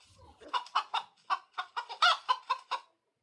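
About ten short, rhythmic clucks from a chicken, close and fairly loud, with a brief pause partway through and no talking.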